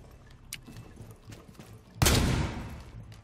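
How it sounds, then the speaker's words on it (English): A single loud, sharp shotgun blast in the tactical shooter Rainbow Six Siege, ringing out and decaying over about a second after quieter game sounds and faint earlier pops. "Is that a shotgun?"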